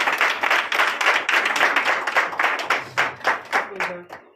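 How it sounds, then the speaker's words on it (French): Church congregation at a Sunday service in Benin clapping together in a fast, strong rhythmic pattern, loud and close, with the beats thinning out and spacing apart toward the end while voices sound faintly beneath. "Donnez de vive acclamation à l'Éternel."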